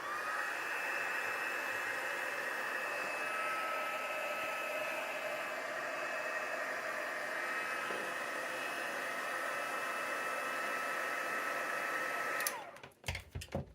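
A hair dryer blows on wet acrylic paint on a canvas, a loud, steady close-up whoosh running alone for about twelve seconds before it is switched off abruptly.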